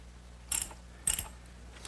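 Ratcheting clicks from tightening a 1/4-inch carriage bolt on a wooden Adirondack chair cross member, two short bursts of close mechanical clicking with quiet workshop background between them.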